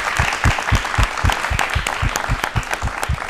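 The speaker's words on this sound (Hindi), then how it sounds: "एक बार दूरदर्शन परिवार के लिए तालियां जोरदार होनी चाहिए," A studio audience on a Doordarshan Rajasthan talk show applauds for the Doordarshan family, steady enthusiastic clapping filling the room with distinct, close hand claps and no talking.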